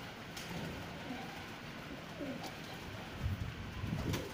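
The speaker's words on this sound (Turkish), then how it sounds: "Evet kuşlar çıkıyorlar." Soft, low pigeon coos repeat in short phrases, a few birds cooing close by over a quiet background with faint chirps.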